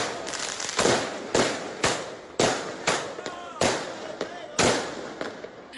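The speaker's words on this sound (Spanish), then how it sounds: "de estos fuegos artificiales, pues los hinchas de Universitario de Deportes celebraron su 96 aniversario" Fireworks and firecrackers set off by Universitario football fans celebrating the club's anniversary across Lima, a rapid series of loud sharp bangs and bursts echoing at a distance.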